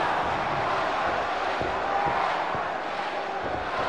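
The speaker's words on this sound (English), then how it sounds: "We hear some booing from the audience here in Japan." Booing from a Japanese pro wrestling arena crowd during a match, a steady broad roar of voices filling the hall throughout, with a few faint thuds beneath.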